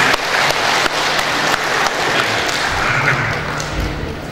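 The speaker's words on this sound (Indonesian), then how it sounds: "Tepuk tangan." A crowd claps at a 2015 Dumai mayoral candidates' public debate, the applause fairly loud at first and then gradually thinning and fading toward the end.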